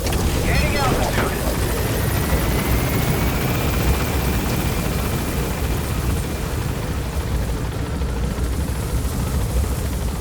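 A helicopter in Metal Gear Solid V: The Phantom Pain lifting off from a landing zone and climbing, a loud, continuous rotor and engine roar throughout.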